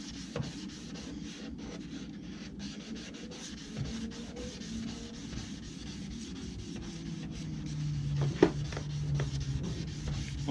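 A Mercedes C220 headlight is wet-sanded by hand, giving a steady, fairly quiet rubbing and scraping with a faint hum underneath and a few small knocks near the end.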